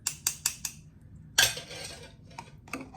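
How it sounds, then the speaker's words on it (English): Scraping, clinking metal sounds as a spoon works fresh cranberries around inside a strainer: four quick evenly spaced clicks, then a louder rasping scrape and a few softer knocks, close and fairly quiet. "I'm moving around the cranberries inside the strainer"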